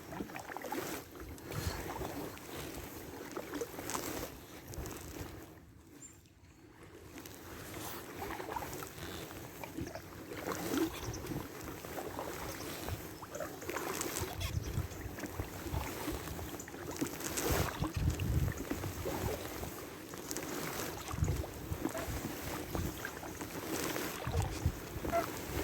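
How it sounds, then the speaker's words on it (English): Canoe paddled along a river on a morning trip from Hereford toward Hoarwithy, with soft repeated paddle strokes and water splashes under steady wind noise, a brief quieter gap near the start, no talking. "I am paddling."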